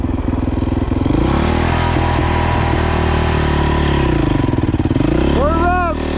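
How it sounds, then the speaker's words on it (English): A dirt bike engine sits at a fast, rattling idle up close, then revs up sharply near the end with a rising whine, people talking faintly around it. "this time rev it up a bit more"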